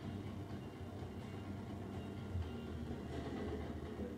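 A train rumbles steadily along, a continuous low, droning roar with faint rhythmic rattling, fairly close and unbroken throughout.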